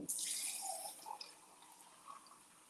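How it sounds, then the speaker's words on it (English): Water is poured onto dried hash browns in a kitchen, a brief faint splash and trickle that fades into quiet drips. "let's put some water in here. Just enough to rehydrate those."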